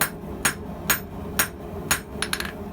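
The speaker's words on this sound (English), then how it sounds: "So here I'll give this hammer its maiden voyage while starting to fool around and make a tong." A finesse hammer strikes hot metal in forging tongs, landing about five evenly spaced sharp blows followed by a quick flurry of lighter taps, close and clear with no talking.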